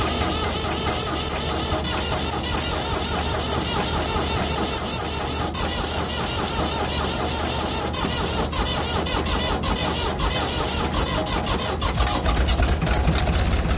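A cold engine cranking and trying to fire in a shop, with a continuous mid-pitched churn of the starter and engine that grows a bit louder toward the end as it catches.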